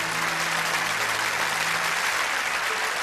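Church audience at St Roch's Church, Poothura, applauding steadily for a girl named Anjali; dense, continuous clapping from many hands at moderate distance throughout.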